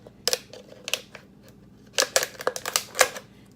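Scissors snip through a plastic water bottle, cutting off its bottom: a series of sharp, crisp close-up cuts in irregular bursts, with quiet pauses between them and no talking.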